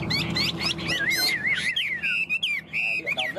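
A tame Chinese hwamei songbird sings a loud, close, rapid run of varied whistled phrases and trills, with a low background hum underneath.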